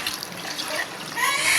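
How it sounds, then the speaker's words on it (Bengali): Water pours into a pot of khichuri being cooked with lentils, a steady close rushing splash that grows louder toward the end, with no talking. "এটা এখন পানি দিয়ে দিব"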